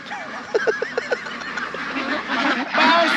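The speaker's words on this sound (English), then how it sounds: "come see the ducks, it's hilarious" Several short nasal honks and quacks from ducks in quick succession in Vietnam, fairly close, over a noisy outdoor background.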